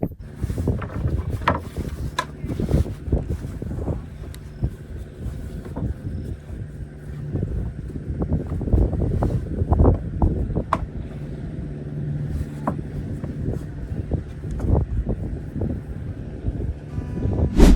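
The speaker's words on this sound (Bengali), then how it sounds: "ট্রলারের খটখটানি শব্দ" A fishing trawler's engine clatters steadily on a moonlit night in the Sundarbans, heading out toward the sea estuary; a continuous low knocking churn with wind buffeting the microphone and no voices.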